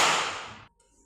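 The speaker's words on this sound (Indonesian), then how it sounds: "Kita cukup beri tepuk tangan satu kali." A single sharp clap from a round of hand clapping in a classroom, short and crisp, with a quick decay into near silence.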